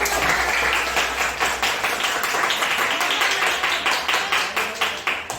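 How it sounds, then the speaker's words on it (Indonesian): A classroom of children clapping their hands together in a fast, steady rhythm, loud and close, with repeated sharp claps continuing throughout. "Tepuk tangan buat kita."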